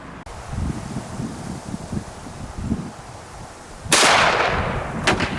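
A rifle round fired at a ceramic body-armor tile gives a sudden loud, broadband crack near the end of the stretch, with a second sharp report shortly after, both over steady outdoor wind noise.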